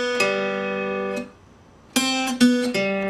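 Clean electric guitar notes of a blues lick, a sustained note followed by a pause and then three quick plucked notes ringing out, played alone.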